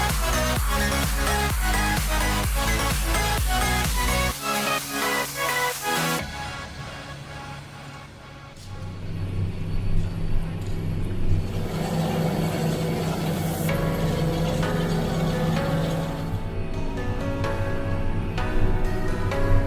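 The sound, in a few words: tractor driving across field during soil preparation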